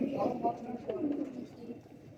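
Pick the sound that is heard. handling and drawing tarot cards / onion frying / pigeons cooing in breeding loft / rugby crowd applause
pigeons cooing in breeding loft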